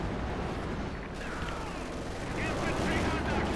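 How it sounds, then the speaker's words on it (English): Panzerwerfer rocket launchers and machine guns firing in the Company of Heroes 2 battle game, a dense, continuous barrage of gunfire and launches across the whole stretch, with a voice talking over it. "Panzerwerfers firing with machine guns"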